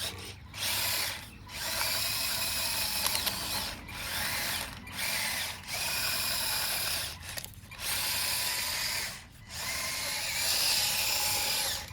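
A converted RC Masito Bobcat T590 tracked loader with rubber tracks drives outdoors over dirt, its electric motors whining in repeated bursts of a second or two separated by brief pauses, close and steady with no talking.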